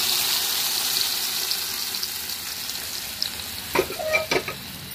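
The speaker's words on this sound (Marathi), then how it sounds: "आता ही उकडलेली डाळ आपण टाकून घेतोय" Boiled dal is poured into a sizzling tempering of curry leaves and stirred: a steady loud sizzle, with wet splashing and a few sharp clinks of a spoon against the pan near the end.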